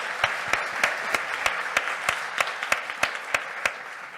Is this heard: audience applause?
yes